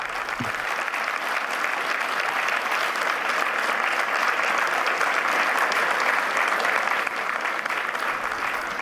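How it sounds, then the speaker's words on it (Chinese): A standing ovation fills the hall at the Davos forum after a speech: dense, sustained applause from a large audience, steady and even throughout with no pauses. "台下观众全体起立鼓掌，掌声经久不衰"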